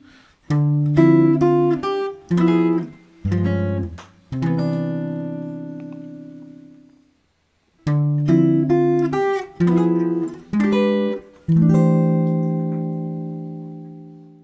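A clean electric guitar plays jazz chords, each one struck with the bass note first and left to ring, a pause midway, then further voicings.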